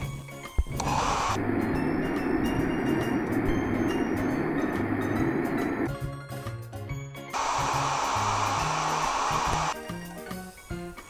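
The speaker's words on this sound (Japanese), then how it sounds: "またドライヤーで髪を下ろしますね。" Hair dryer in the Toca Hair Salon 2 game blows a steady, loud whooshing roar, cutting out briefly mid-way amid clicks and jingly tones, then whirring again until near the end.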